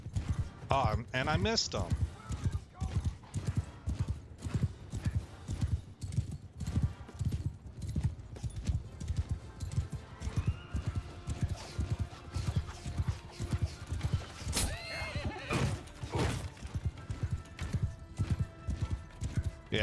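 Hoofbeats of galloping cavalry horses clatter steadily through a modded Bannerlord 1.1.2 battle, with occasional neighs rising over the din while someone talks throughout.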